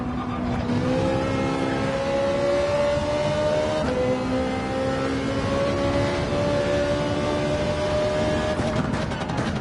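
A race car engine in Gran Turismo 7 at Spa, an 800PP endurance racer, accelerating out of a corner: a loud, continuous onboard engine whine climbing steadily in pitch, with a quick gear shift midway and a faint tire scrub.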